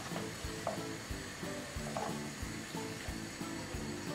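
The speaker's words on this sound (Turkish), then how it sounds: "Güzelce kavuruyorum" Curry-spiced chicken sizzles and fries in a pan while being stirred, with steady broadband sizzle and a rhythmic clatter of the utensil scraping every half second or so, close and moderately loud, no talking.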